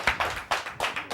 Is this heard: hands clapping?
yes